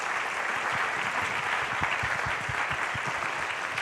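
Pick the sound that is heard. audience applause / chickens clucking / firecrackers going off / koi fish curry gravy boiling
audience applause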